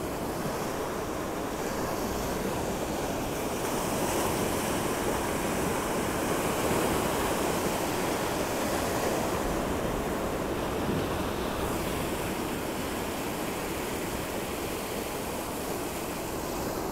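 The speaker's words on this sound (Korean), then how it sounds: "파도 소리 조금 담아보고 영상 올리도록 하겠습니다" Ocean waves on the Gangwon-do coast in Korea, a continuous broadband roar of surf with gentle swells and some wind, steady and loud throughout with no talking.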